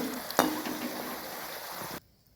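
Slices of brinjal frying in a pan, with a steady hiss of sizzling oil, a sharp clink of a utensil, and some light stirring scrapes before the sound cuts off abruptly.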